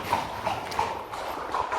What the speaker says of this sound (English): There's a horse carriage.